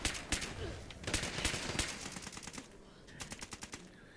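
Fallout 76 gunfire on Xbox: bursts of rapid automatic shots, loud at first, easing off, then a quicker rattling volley near the end.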